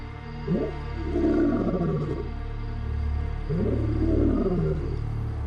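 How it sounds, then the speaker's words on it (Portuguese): A wild male lion roars from a distance, two drawn-out, grunting roar phrases rising and falling over a low steady rumble of background noise, with no talk. "Dava para ouvir o rugido dele ao longe"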